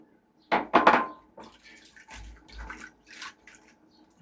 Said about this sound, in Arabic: كندير دابا الماء سخون، كنرمي الخضره اللي كتشد الطياب